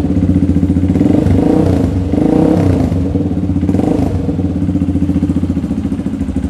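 A trail motorcycle engine, racing-KLX style, runs steadily close by with a throbbing, slightly rough idle and mild revving swells, loud and alone.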